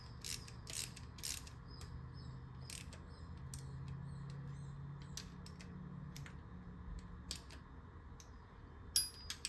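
A ratchet clicks as it backs out a bolt on a Subaru EJ253 engine, giving short bursts of quick metallic ticks between pauses over a faint low hum, close and fairly quiet.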